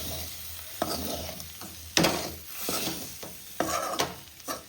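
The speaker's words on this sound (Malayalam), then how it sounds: "നല്ലതായിട്ട് ഇളക്കി കൊടുക്കണം ഇളക്കി കൊടുത്ത് നല്ല അടി പിടിക്കാതെ ക്ലിയർ ചെയ്തെടുക്കണം" Onions and mussels stirred in a sizzling pan for a mussel stir-fry, with intermittent scraping strokes of a spoon against the pan over a quiet, steady frying hiss, heard close up with no voices.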